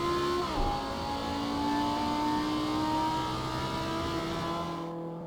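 A Lamborghini Huracan race car in the Assetto Corsa racing game drones steadily at high revs, its engine pitch holding and slowly rising after a brief dip, loud and continuous with no voices.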